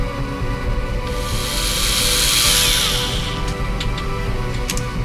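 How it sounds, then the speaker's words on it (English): A small hole is drilled into a 1979 AMT Star Trek U.S.S. Enterprise plastic model kit, a high whining drill buzz lasting a few seconds over steady low background hum, close and fairly loud. "I'm going to have to drill a small hole so we can put the light through for the beacon"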